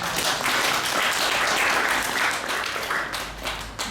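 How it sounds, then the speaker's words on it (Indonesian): Audience applause fills a hall after a Buddhist Dhamma talk, a dense, steady wash of many hands clapping at close range throughout, easing slightly toward the end. "Tepuk tangan untuk kita semua."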